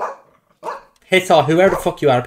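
A household dog barks in a few sharp bursts near the start, then someone shouts over it loudly, with further talk taking over the rest of the moment.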